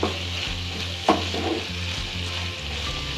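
Chicken keema stir-frying with turmeric in a hot pan, a continuous close sizzle with repeated scraping strokes of a spatula, and no talking.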